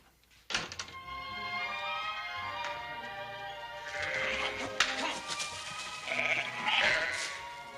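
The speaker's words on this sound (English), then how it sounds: "I never knew a couple dozen sheep could be so ornery." Sheep bleat loudly and repeatedly from close by, their calls overlapping, with a thump at the start and knocking sounds mixed in.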